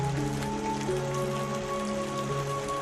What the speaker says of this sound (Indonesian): Hujan semakin deras ketika Mahesa Rani menyandarkan tubuhnya di relung batu yang cukup luas itu